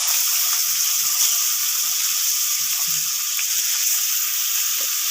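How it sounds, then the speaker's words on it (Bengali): Small puti fish frying in hot oil in a wok, a steady close hiss of sizzling with faint crackles and light clinks running throughout, no voices. "এইভাবে ধীরে ধীরে সবগুলি মাছ আমি ফ্রাই করে নেব।"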